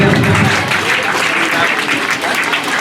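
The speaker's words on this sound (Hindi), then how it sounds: "खुशी के लिए भी एक बार ताली बजा दीजिए आप लोग" A school audience at a Teachers' Day celebration applauds Class 12 student Khushi Kumari, who is about to recite a poem; loud, dense clapping runs steadily through the whole stretch.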